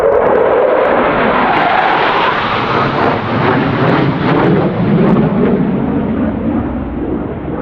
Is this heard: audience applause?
no